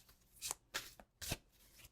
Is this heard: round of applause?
no